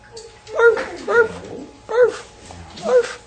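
A person mimics a dog with four yappy, whiny barks spaced about a second apart, close and fairly loud.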